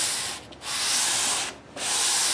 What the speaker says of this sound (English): So what I'm using now is this 120 grit, sort of keeping in line with the string path.